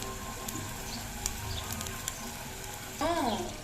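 Butter simmers in a pan while being cooked down into homemade ghee, a soft steady bubbling and crackle under a constant kitchen hum, joined near the end by a voice.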